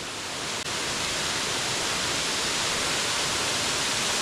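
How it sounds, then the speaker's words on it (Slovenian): The Peštura waterfall in Albania roars in a constant, dense rush of white water, loud and unbroken throughout, with no voices. "to je prvi slap"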